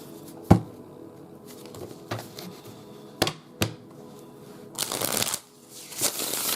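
Tarot cards being shuffled in quick riffling bursts, with a few sharp taps between them, close up and fairly quiet.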